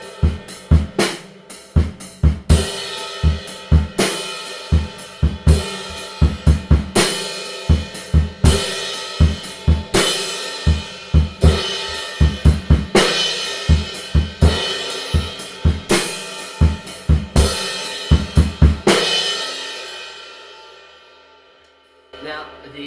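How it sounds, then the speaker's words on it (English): The chorus beat repeats over four measures on a full kit, with a steady kick and snare groove and a crash cymbal hit at the start of each measure. It is loud and close, and the final crash decays to silence. "Now, the beat for the chorus"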